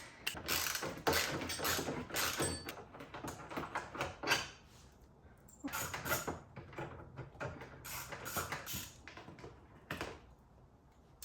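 A ratchet wrench turns 10mm bolts on a carbon fender of a BMW G8X being installed at home, with rapid bursts of close mechanical clicking separated by short pauses.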